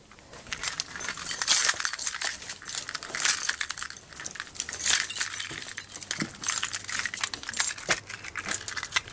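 A ring of keys jangles and clinks in a car cab for several seconds, with bright metallic rattles swelling and fading in uneven bursts and no talk over it.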